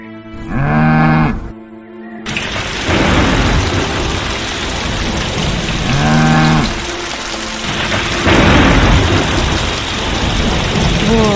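A cow moos twice, once near the start and again midway, its low drawn-out calls carrying through steady heavy rain with a dense rushing wash and rumbling underneath.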